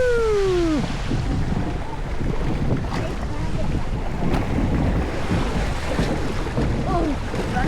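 A log flume boat on the Wildwasserbahn at Bobbejaanland plunges through a waterfall, loud rushing and splashing water with wind buffeting the microphone, while a rider whoops at the start.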